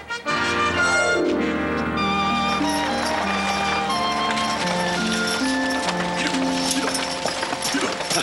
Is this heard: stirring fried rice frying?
no